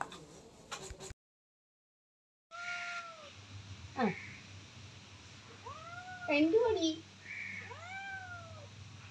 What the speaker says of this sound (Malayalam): അപ്പം അവളുടെ പൂച്ചക്കുട്ടികളോട് സംസാരിക്കാൻ വരുക